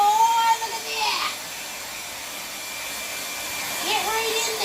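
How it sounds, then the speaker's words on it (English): A hair dryer blows steadily at close range to dry paint on a butterfly painting, a continuous whir with a brief pitch change at the start and end. "have your trusty, musty hairdryer. All right? And we are going to dry off this bad boy."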